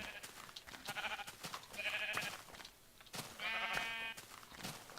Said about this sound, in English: Swimming sheep.